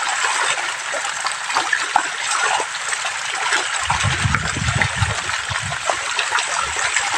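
Feeding milkfish churn and splash water continuously in an aquaculture pond, a steady rushing wash that grows heavier with deeper, louder splashes in the second half.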